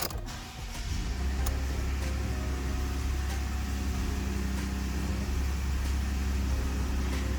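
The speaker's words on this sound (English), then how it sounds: "now that the engine is running and the dashboard's lit up" A 2017 Ford F-150 XLT pickup's engine cranks briefly and catches, then settles into a steady, low rumbling idle heard close up from the cab without talk.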